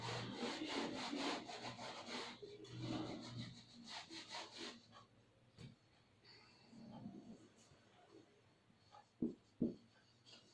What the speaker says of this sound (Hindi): मैं इसे रब कर देती हूँ।